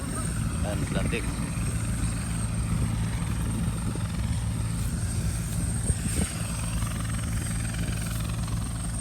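A helicopter thrums continuously at a steady, fairly loud level, its low rotor noise constant throughout while voices speak faintly over it.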